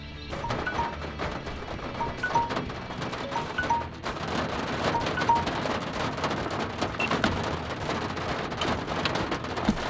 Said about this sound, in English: it starts to rain on me